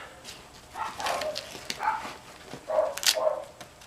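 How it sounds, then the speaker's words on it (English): Dogs bark somewhere off at a distance, several muffled, irregular woofs scattered over a few seconds against a quiet indoor background. "Dogs are barking."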